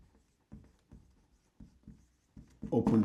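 Chalk or marker strokes on a board while a fraction problem is worked out, a series of short, soft taps and scrapes at irregular intervals, ending in a louder, denser rubbing stroke; nobody speaks.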